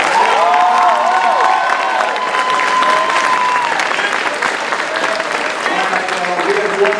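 Audience applause and cheering after a solo by a high school jazz ensemble at an evening jazz concert, a dense steady clapping roar that fills the room throughout, with voices calling out and a few sustained tones over it.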